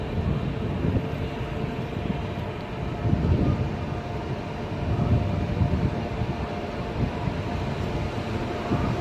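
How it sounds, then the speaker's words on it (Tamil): A goods train coming from Visakhapatnam passes on the railway line near the Puri route junction in Odisha, a steady, moderately loud low rumble that swells slightly at times and lasts throughout. "இதோ இந்த கூட்ஸ் ட்ரெயின் விசாகப்பட்டினத்துலேருந்து வரது தான்."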